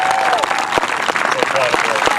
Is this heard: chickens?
no